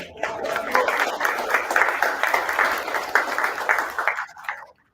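An audience claps steadily through a round of applause at a showcase, a full, dense patter that thins and fades out near the end.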